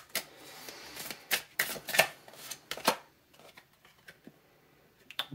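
Tarot cards shuffled and drawn from the deck, a close, crisp run of papery riffles and slaps in quick irregular bursts, then lighter scattered flicks as cards are pulled, with no talking.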